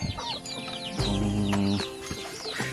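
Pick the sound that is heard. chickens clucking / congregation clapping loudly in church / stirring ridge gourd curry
chickens clucking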